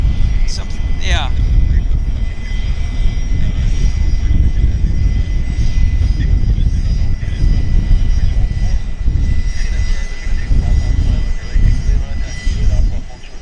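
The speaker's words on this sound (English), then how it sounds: "Caravan float plane took off from the river." A Caravan floatplane takes off from a river, its propeller engine droning loudly and continuously at a distance, with a brief chirp early on and no pauses.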